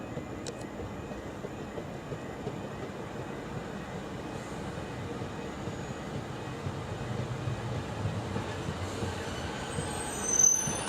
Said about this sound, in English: So there goes my last train of the day.